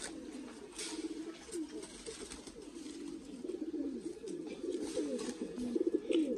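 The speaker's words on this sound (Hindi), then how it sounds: "अच्छा कबूतर है ये, अच्छे साइज में अच्छे वजूद में" A breeder's pigeon coos steadily and softly for several seconds in a low, rolling murmur, close by, with faint background noise and no speech.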